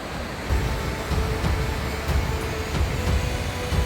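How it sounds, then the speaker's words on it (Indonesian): A swollen brown river runs high after nonstop rain, a steady broadband rush of water with surging pulses, loud and close, no voices. "hujan yang tiada henti dari pagi mengakibatkan air sungai menguap besar berwarna coklat nih."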